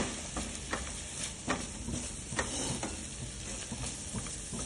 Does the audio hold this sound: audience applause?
no